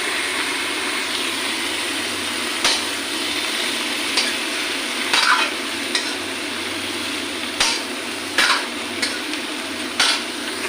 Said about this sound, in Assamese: এতিয়া অলপ লৰাই লওঁ